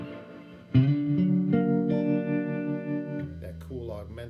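An electric guitar plays a slow blues intro: a few sustained, ringing chords with effects, close and clear, ending in a short run of notes.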